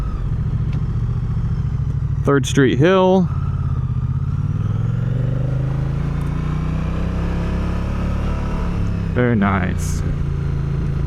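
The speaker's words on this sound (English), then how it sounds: "Man, is that just a strong, strong engine pull." A Moto Guzzi Stelvio motorcycle engine pulls hard uphill, its steady close drone under wind rush for the whole stretch, with someone talking briefly near the start and again near the end.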